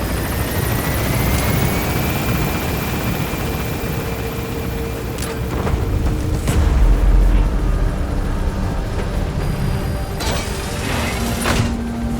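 A helicopter gains altitude in Metal Gear Solid V, its rotor and engine roaring loud and steady throughout, with a rising whine early on and dull thuds and rumbles flaring in the middle.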